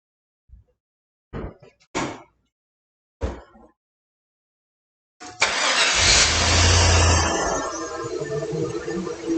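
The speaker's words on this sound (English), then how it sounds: "let's go ahead and fire up the truck" A truck engine cranks and starts, after a few short clicks and taps, then idles loudly and steadily close by with a rough rumble; no one speaks.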